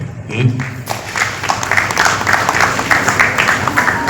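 Temple audience at an ISKCON Sri Krishna Ashtami gathering in Tanuku applauding with sparse, half-hearted clapping that carries on steadily at moderate level after a brief bit of voice at the start.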